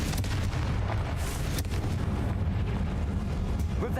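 Confringo blasting spell exploding in the video game Hogwarts Legacy on PS5, a dense, rumbling burst of booms and crackling blasts that continues steadily, fairly quiet overall.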